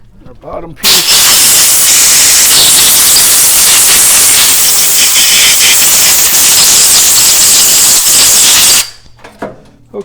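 Compressed air blasts loudly through disassembled Harley XL/Buell oil pump parts in a shop, a single sustained high hiss lasting about eight seconds, starting and stopping abruptly.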